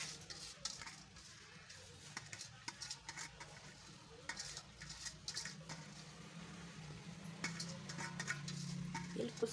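Chicken vegetable fried rice is stirred and mixed in a hot pot with a spoon, a close, continuous scraping and soft sizzling with small clinks, without talk.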